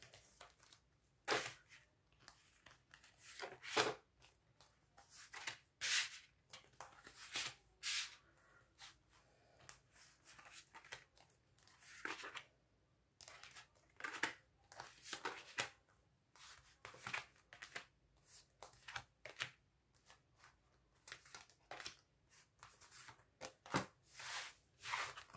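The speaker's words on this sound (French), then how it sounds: "Je vais étaler mes cartes." Tarot cards being spread out across a table, giving a steady run of soft, close papery swishes and slides in irregular bursts, with no talking.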